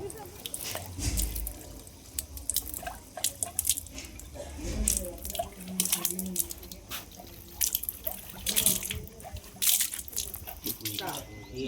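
Dirty, dark water runs from a drinking water tap in a residential colony, splashing and dripping unevenly while people talk over it.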